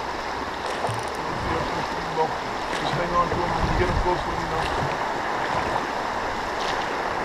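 Fast, raging brown water of the Delaware River rushes and churns around a small fishing boat, a constant close wash under calm talk between anglers.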